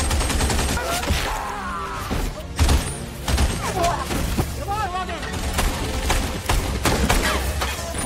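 Gunfire from soldiers shooting German troops in battle, sharp repeated shots and thuds over a dense battle din, with a voice talking over it.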